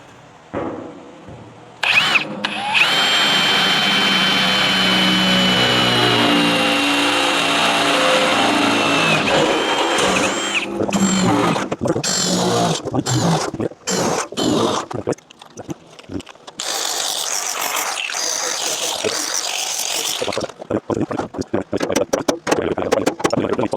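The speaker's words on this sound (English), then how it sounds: "I'm going to drill those bigger bolt holes" A power drill bores bigger bolt holes through the steel floor pan of a classic car during a full floor replacement: a loud, sustained grinding whine at first, then a run of short stop-start bursts separated by quiet gaps.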